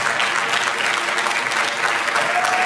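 Audience applause at a Martin Luther King Jr. Day commemoration celebration, a dense, steady wash of many hands clapping from a crowd, sustained and fairly loud throughout.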